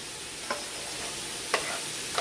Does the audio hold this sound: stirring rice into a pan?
yes